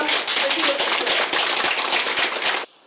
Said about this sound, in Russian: Под громкие аплодисменты зрителей началась презентация